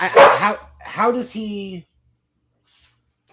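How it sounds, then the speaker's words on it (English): A pet dog barks nearby in a home, two or three loud barks overlapping with a man's speech before the room falls quiet. "Sorry, that's my dog."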